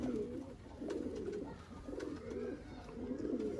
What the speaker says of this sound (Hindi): ये मौसम भाई मास्टर अब्दुल्ला वाला कबूतर है ओरिजिनल, बड़ा एक क्लास कबूतर है।